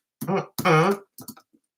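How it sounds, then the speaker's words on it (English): A couple of short, throaty coughs close up, followed by a softer hack and a faint trailing sound, with no talking. "Oh, I'm going to cough."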